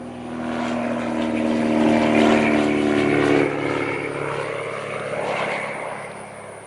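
An aircraft passes overhead with a loud engine drone that swells to a peak midway and then eases off while still present, and nobody speaks.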